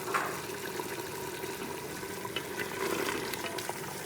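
Mutton with cauliflower frying in half a cup of oil, a dense bubbling sizzle with light stirring scrapes, close and steady without any talking.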